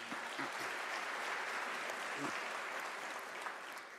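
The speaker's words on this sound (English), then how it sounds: "I want us to give an applaud to our sign language interpreter, Ms. Nombuso Ntleko." Audience at a University of South Africa autumn graduation ceremony applauds steadily, a dense even wash of clapping from a large crowd that continues throughout and fades slightly at the end.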